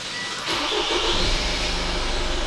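A Mitsubishi Outlander 2.2 DI-D diesel with an EGR fault cranks and fires up about half a second in, then settles into a rough, steady idle close by, with no clear stall heard.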